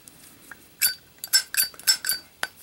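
A few bright metallic clicks and clinks from a Zippo lighter lid being flipped open and handled, close up, irregular, with quiet pauses between.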